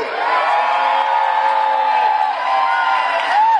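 Roller derby arena crowd cheering and whooping at a Dallas Derby Devils season opener, a loud, sustained wall of voices with shouts rising above it, close and continuous.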